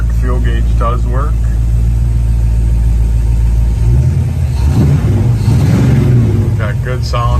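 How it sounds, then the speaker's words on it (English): A 1975 Ford Gran Torino with a 351 V8 and dual exhaust idles at a car show in Waterbury, Vermont, its loud, steady low rumble right up close while a voice speaks briefly over it. "Got good sounding dual exhaust on it."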